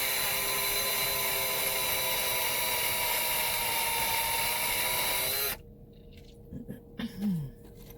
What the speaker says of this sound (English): I drilled a little bit on the back side